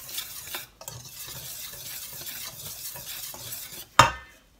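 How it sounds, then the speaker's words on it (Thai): A utensil stirs seasoned batter for spicy Thai fried chicken, a continuous scraping swish with brief pauses, ending in a sharp clank of metal near the end; no voices. "คนให้เข้ากันจ้ะ"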